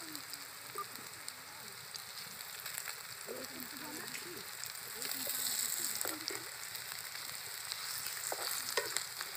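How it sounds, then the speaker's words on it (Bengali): Cabbage and lentil pakoras frying in oil, a steady soft crackle and sizzle with faint stirring, slightly louder midway, no talk. "পাকোড়াগুলো আমার এক পাশটা ভাজা হয়ে গেছে,"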